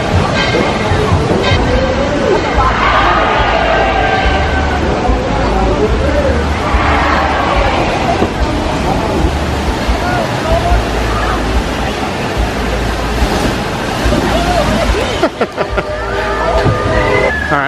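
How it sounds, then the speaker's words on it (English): Water crashing and splashing on the River Rampage water ride at Dollywood, a continuous roaring rush amid outdoor crowd chatter and park noise. "We're gonna take a brief break to watch some people get soaked on the River Rampage."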